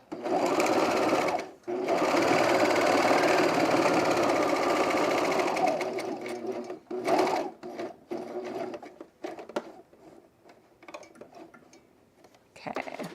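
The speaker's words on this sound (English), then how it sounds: "I'm gonna overlock this raw edge right here real quick." An overlocker serges a raw fabric edge on pants, whirring loud and steady for several seconds after a brief pause, then running in shorter stop-start bursts with quiet gaps.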